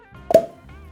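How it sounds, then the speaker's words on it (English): A cork pulled from a bottle of Stagg barrel-proof bourbon gives one sharp, close pop, with a brief resonant squeak as it releases, in an otherwise quiet room. "Still one of the best cork pops in the game."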